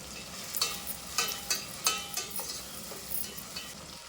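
Tomatoes hiss and sizzle softly in oil, with intermittent spatula scrapes and stirring taps, no voices.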